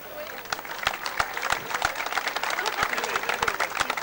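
A crowd at a GAA honour ceremony at McCool Park in Ballybofey claps steadily, a dense patter of applause with a few sharp, loud nearby claps standing out, and no talk over it.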